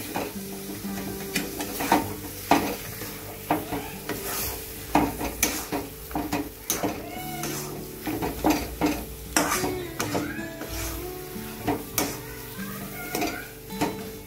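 Repeated scraping strokes of a spoon stirring chicken into fried spice paste in a pan, with a steady sizzle underneath and occasional metallic clinks.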